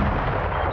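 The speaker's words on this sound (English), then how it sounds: "A big explosion." A deep, loud rumbling blast from a ship explosion in the Nebulous space combat game, a dense sustained boom filling the short moment with no talk.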